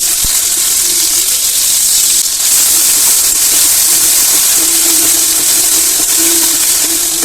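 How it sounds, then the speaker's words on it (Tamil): Chopped onions hit hot oil in a pan, giving a loud, steady, broad sizzling hiss that holds without letup, with faint occasional tonal whines in the background. "எண்ணெய் காஞ்சோன்னே இதில் வெங்காயத்தை சாப் பண்ணி வச்சுருக்கேன் இதை போட்டுக்கலாம்"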